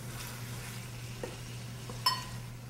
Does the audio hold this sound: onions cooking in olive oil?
yes